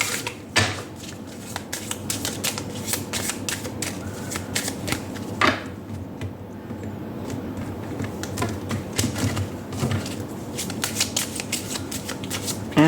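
Romance Angels oracle cards being shuffled by hand, a steady run of crisp riffling flicks and slaps that carries on for several seconds at close range with no talking.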